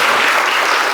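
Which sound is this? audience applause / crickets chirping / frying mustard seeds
audience applause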